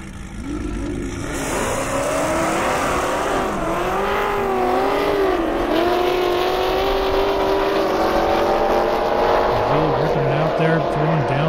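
A 1,000 horsepower Cadillac CTS-V race car runs at an Indy airstrip event, its engine note rising steadily and staying loud and sustained, with a commentator's voice running over it.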